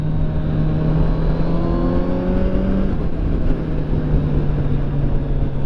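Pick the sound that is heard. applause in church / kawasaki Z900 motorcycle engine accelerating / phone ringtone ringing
kawasaki Z900 motorcycle engine accelerating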